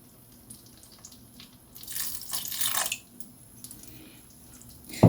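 A little water poured into a pan of melted jaggery syrup, a brief faint splash and sizzle close by, preceded and followed by quiet drips.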